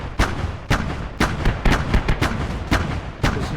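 Artillery and mortar fire in a war video game, a rapid series of sharp, loud booming blasts spaced irregularly, roughly ten reports in a few seconds, close and punchy with rumbling low end.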